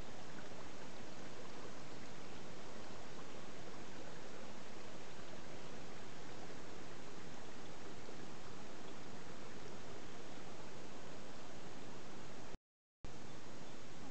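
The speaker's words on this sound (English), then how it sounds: "there is no better sound in the world than trickling water" A rainforest creek along the Bellambi escarpment trickles as a soft, continuous hiss of running water, faint and even throughout, with a brief dropout near the end and no talking.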